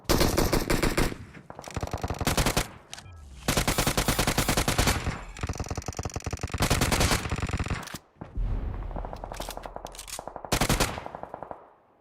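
Rapid bursts of automatic gunfire from the SKS and UMP in the PUBG Mobile battle royale game, loud and near, with repeated long volleys broken by short pauses and scattered single shots.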